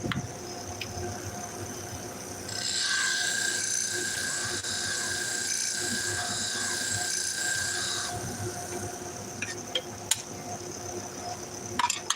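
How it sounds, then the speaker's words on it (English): Salon shears are ground on an abrasive sharpening machine, giving a steady high whine that rises partway through and holds for several seconds before dropping back to a quieter motor hum, with a few clicks near the end. "this is about 6 pairs of shears that I've sharpened on these abrasives"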